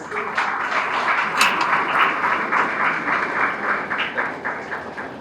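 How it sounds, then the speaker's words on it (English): An audience claps through a long, sustained round of applause at a student results celebration, dense and fairly loud, with a few sharper individual claps standing out. "Huge round of applause"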